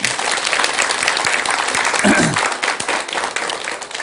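A Buddhist lecture audience breaks into loud, continuous applause, a thick crowd of clapping hands that holds steady and thins slightly near the close.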